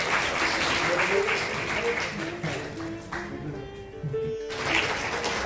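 Applause from the audience at a Children's Day award ceremony at a fine arts academy in Amritsar, clapping that holds steady and then thins out while a voice speaks over it.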